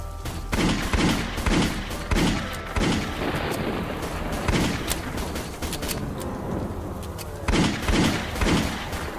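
Gunfire in the video game I Shall Remain: repeated loud shots and bursts in rapid volleys, with dense heavy booms filling the scene almost continuously.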